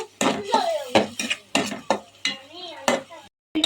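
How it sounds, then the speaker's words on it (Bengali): Spices and vegetables are stirred together in a cooking pan, with a run of loud, close scraping strokes at an uneven rhythm and a voice heard in between. "এবার আমি যে উপকরণগুলো দিয়েছি এগুলো এখন দিয়ে দিচ্ছি একসাথে মিশিয়ে দিচ্ছি"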